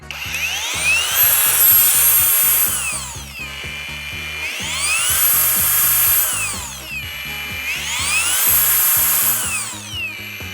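A Dnipro-M cordless angle grinder whines loudly, its pitch sweeping up and settling three times as the speed is switched, with a steady mechanical rattle underneath.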